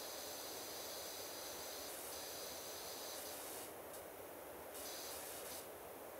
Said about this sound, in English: It's all about washing. Spraying, power spraying.